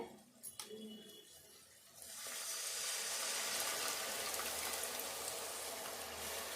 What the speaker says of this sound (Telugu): ఇప్పుడు ఇందులో చింతపండు సూపు పోసుకోవాలి